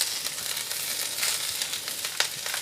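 Vegetables seasoned with black pepper sizzle and caramelize in a hot pan while a scallop casserole is being made, a steady close hiss with faint crackles and small pops throughout.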